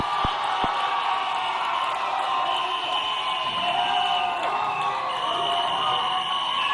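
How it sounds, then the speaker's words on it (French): A big crowd at a Chadian Republic anniversary celebration keeps up a continuous roar of cheering and applause for a school group, with a couple of sharp knocks early on and faint voices mixed in. "Applaudissements pour le lycée Patriote."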